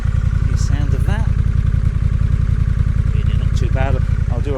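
Honda CMX 1100T Rebel DCT bagger motorcycle idling close by, a loud steady low exhaust throb with rapid even pulses running throughout, with someone talking over it.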